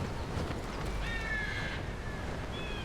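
A bird caws in a woodland video game: a drawn-out, faint call with a shorter one after it, over steady low background noise.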